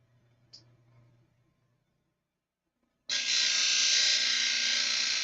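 After a near-silent start with a faint tap, a power sanding disc abruptly whirs up and grinds steadily and loudly against a model airplane propeller.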